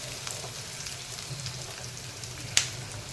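Garlic, ginger and chili hit a pan of browning onions for a methi matar malai curry, giving a steady close sizzle with a single sharp crackle near the end.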